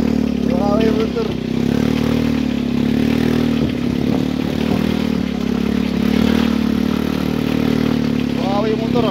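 A motorcycle engine runs steadily, close and loud, while riding over a potholed road, with clattering and scraping from the rough surface and someone talking over it.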